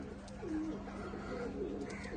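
Pakistani pigeons coo softly and briefly at close range, with a few low murmuring calls over a steady background hum.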